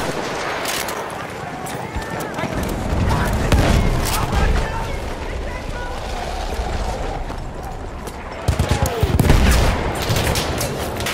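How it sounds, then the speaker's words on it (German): Gunfire and a grenade explosion in Battlefield 1 on the Amiens operation, with continuous crackling rifle and machine-gun fire, heavy booms and a louder blast near the end, and players shouting over the din. "Granate ist raus, aufpassen!"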